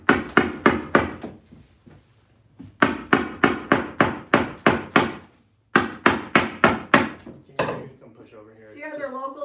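A hammer pounds out three quick bursts of sharp, evenly spaced blows, about five or six strikes per burst with brief pauses between. A voice speaks briefly at the end.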